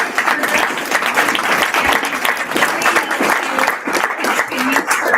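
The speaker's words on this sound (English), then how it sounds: "And so I want to just give them all a round of applause." Steady, full applause from a luncheon audience honoring community members, many hands clapping in a dense continuous wash that carries on for several seconds without letting up.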